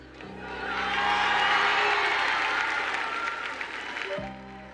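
An audience applauds a song, a swelling wash of clapping and some cheering that fades near the end, with faint music underneath.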